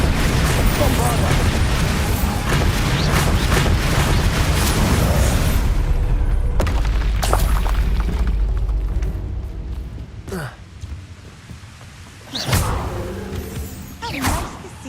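Bombarda explosion spell going off in Hogwarts Legacy, a long, dense, rumbling blast that fades, followed by a few sharp bursts and whooshes, with a voice speaking in between.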